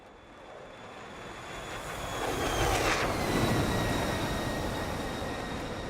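A Su-33 fighter jet in DCS takes off from the carrier Mariana, its engine roar swelling from a low rumble into a loud, broad rushing blast that holds steady as it climbs away.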